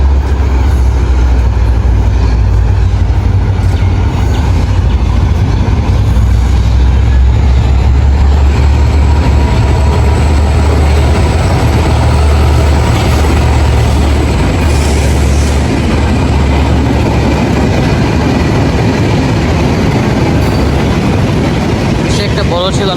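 A train approaches on a rail line near a cantonment, a loud continuous low rumble that fills the whole stretch and drowns out everything else.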